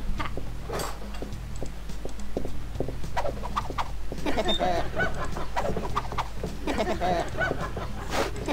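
A bird in a modded Neighbours from Hell video game gives repeated short clucking, chirpy calls over a steady low hum and scattered ticking game effects.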